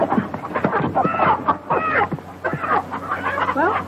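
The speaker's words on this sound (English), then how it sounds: "Oh, he can't hurt them chickens." Chickens clucking in a farmyard setting with scattered rooster-like calls, close and fairly loud throughout the short stretch without talk.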